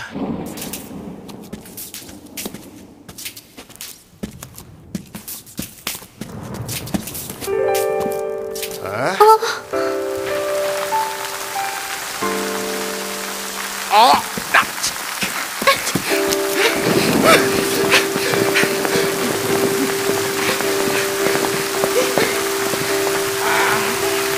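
Rain and thunder from the Final Fantasy XIII game, with steady rainfall and rumbling thunder under game music tones and effects, the storm noise building after the opening seconds and continuing throughout.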